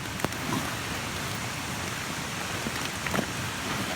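Steady rain falls through woodland, a dense, even hiss of drops on leaves and ground with a few louder individual patters, continuous and close with no voices.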